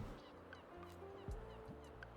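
A goose honks a few times in a cozy bookshop video game, the calls fairly faint over a soft, steady background tone.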